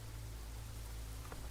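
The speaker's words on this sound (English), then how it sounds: "And it's raining again." Steady rain in the survival video game Enshrouded, a continuous broadband hiss with soft low rumble, no talking.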